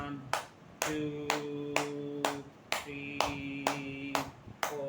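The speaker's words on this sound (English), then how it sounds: "Clapping." Hand clapping during a hot yoga workout, about ten sharp, evenly spaced claps at a steady rhythm, heard over soft sustained background music.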